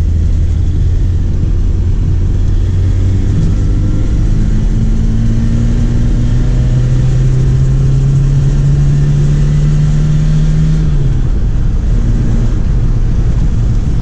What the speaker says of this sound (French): On va se faire une petite accélération comme il y a la ligne droite qui arrive.